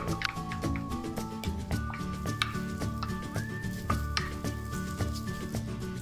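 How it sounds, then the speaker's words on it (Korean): Cooked rice pressed and stirred into scrambled egg and shrimp in a pan for shrimp fried rice, giving a steady run of scraping, soft sizzle and clatter under a continuous tonal background. "이제 밥을 넣고 고루고루 비벼줍니다"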